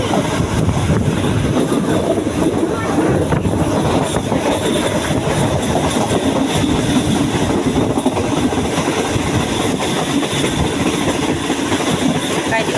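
Train 445 runs through the Khao Chong railway tunnel cut through the mountain range in Nakhon Si Thammarat, Thailand, a loud steady rumble of rolling wagons and wheels that fills the whole stretch without letup.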